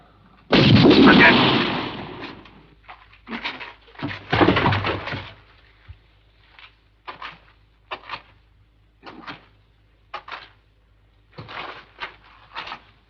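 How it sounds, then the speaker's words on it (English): Gunfire rings out in a western movie shootout: a big booming blast and a second heavy shot, then a string of sharp, separate reports spaced out across the scene. "The shooting's over."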